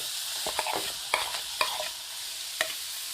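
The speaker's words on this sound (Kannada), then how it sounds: "ಇದನ್ನು ಲೋ ಫ್ಲೇಮಲ್ಲಿ ಫ್ರೈ ಮಾಡ್ಕೊತೀನಿ" Food frying gently in melted butter over a low flame in a pan, a soft steady sizzle broken by a few sharp stirring scrapes and clicks, close by with no voices.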